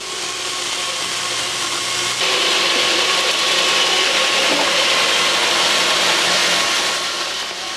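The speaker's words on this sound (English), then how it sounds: "It's the biggest chainsaw I've ever seen. It can cut a whole stack of wood all at one time." Giant sawmill chainsaw grinding through a whole stack of wood at once, a loud, steady broadband whine that swells a notch partway through and holds continuously to the end.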